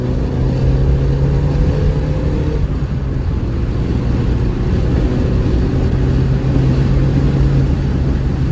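A car climbs a mountain pass road, its engine droning loudly and steadily from inside the cabin with constant road and wind roar, the revs rising slightly throughout.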